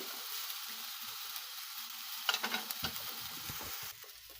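Meat patties softly sizzling in a pan, a low steady hiss with a few louder crackles and scrapes midway.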